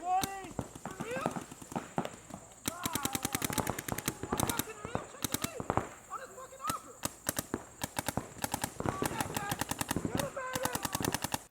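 Paintball guns fire in a recreational game: dense rapid popping volleys, some near and some farther off, continue throughout while voices shout over them.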